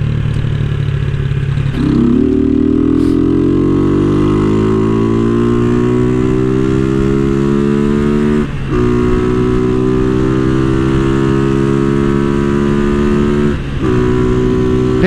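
A Honda CG motorcycle engine runs loud and steady close by, then its pitch climbs as it revs up and holds high, with brief dips along the way.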